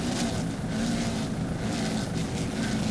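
A 40-foot MTI racing powerboat roars at steady full throttle, a loud continuous engine drone with wind and water rush, close and constant throughout.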